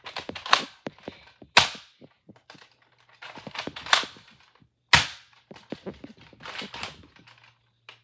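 Sharp snapping shots from a Nerf Ultra 4 foam blaster, a handful of crisp cracks spaced irregularly with mechanical clicks and rattles of priming between them, close and clear with almost no talk.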